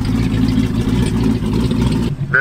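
A twin-turbo police car engine revs hard and loud with a thick, steady roar, then cuts off abruptly near the end.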